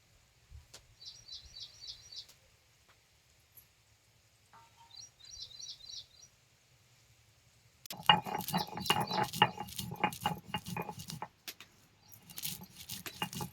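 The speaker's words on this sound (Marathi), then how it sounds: "आता हे भाजलेलं गार झाले जर पाट्यावर वाटून घेतो" Roasted onion masala being ground by hand on a traditional stone slab, heard as a steady, close rough scraping and rubbing that starts partway through and keeps going, after a quiet stretch with faint bird chirps in the background.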